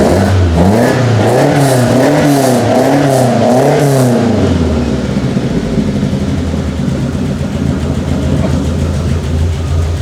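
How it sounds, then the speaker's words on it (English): A Lotus Elan engine revs repeatedly, its raspy induction roar swelling and falling in quick rhythmic blips up close, then settling into a rough, steady idle. "Oh, that induction noise."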